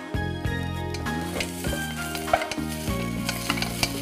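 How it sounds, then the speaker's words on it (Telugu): Small chopped onion pieces frying in ghee for a soup, a loud continuous sizzle with repeated scraping and stirring strokes against the pan and a faint background hum. "సో నెయ్యి వేసుకొని వెంటనే ఉల్లిపాయ ముక్కలు కూడా"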